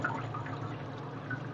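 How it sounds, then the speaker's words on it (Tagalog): Tap water running onto a pressure cooker sitting in a basin, a steady, moderately quiet splashing stream heard close up with no talking. "Babad lang natin siya dito sa planggana, tapos tutukan lang natin siya ng tubig"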